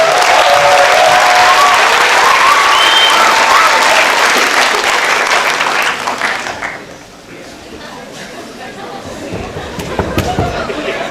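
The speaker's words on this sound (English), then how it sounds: "Let's give them a clap." Loud, close applause fills a school hall for visiting guests at a Rama and Sita performance, then fades after about six seconds into scattered claps and murmuring voices.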